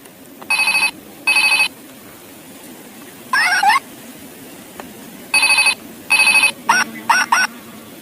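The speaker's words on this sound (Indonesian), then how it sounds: "Wow, itu ada telepon Hello Kitty." A Hello Kitty toy telephone rings in short, bright electronic bursts, repeated several times with brief gaps, mixed with chirpy cat-like meowing tones near the end.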